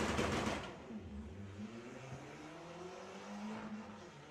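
An Audi TT drag races an Audi A6 in a dial-in class at a drag strip, opening with a loud burst of revving before settling into fainter, distant engine drone with rising and falling gear pulls.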